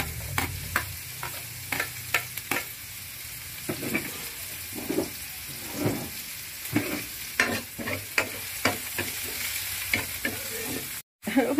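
Garlic and onions sizzle steadily in a hot pan while a spoon or spatula scrapes and stirs in repeated sharp strokes, close and fairly loud throughout, while cooking spicy chicken in coconut milk.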